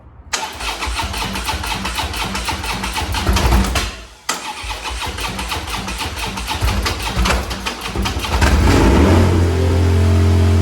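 An engine with fuel pump problems cranks with a rapid whirring churn, stalls briefly, cranks again, then catches and settles into a loud, rough idle on its first start.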